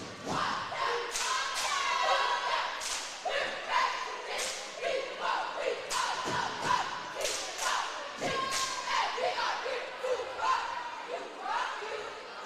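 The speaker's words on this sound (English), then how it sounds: "The Mills Comets cheer team. Always stomping their feet as loud as they can." A school cheer team at a varsity basketball game stomps their feet in a loud rapid series of thuds on bleachers, mixed with cheering voices in a busy gym.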